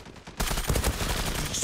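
Gunfire in the online shooter game Zula erupts suddenly as a dense, loud burst of rapid shots over a steady clatter, with no voices.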